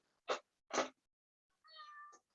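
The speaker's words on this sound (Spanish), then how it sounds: "No sé si se escuchan al gato. Hay un gato." A domestic cat indoors gives two short, sharp meows followed by a longer, drawn-out tonal meow, all fairly close against near silence.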